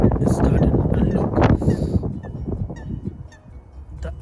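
Egyptian goose honking outdoors, with a few loud calls near the start standing out over wind and background noise, then quieter calls trailing off.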